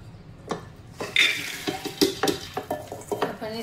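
Dal makhani of mixed urad and rajma is stirred in a cooking pot, a string of close, sharp spoon scrapes and clinks coming in uneven bursts with a faint simmer beneath.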